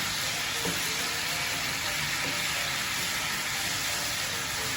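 Chicken tikka masala sizzles steadily on a hot tawa while the masala at the sides is stirred and scraped, a dense continuous frying hiss with occasional soft utensil knocks, close and moderately loud, no talking.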